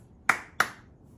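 Two crisp hand claps in quick even succession, about a third of a second apart, close up in a quiet room with brief decays.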